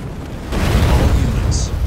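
Airstrike explosions in the Halo Wars 2 strategy game hit as a deep, sustained booming rumble that swells after a quiet start and rolls on loudly to the end, with a brief high hiss near the close.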